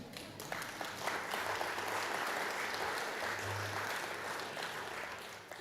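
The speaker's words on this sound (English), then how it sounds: "you do deserve a round of applause for that" An audience at an address by the President of the Philippines in Australia claps in sustained, dense applause that holds steady throughout, with no speech over it.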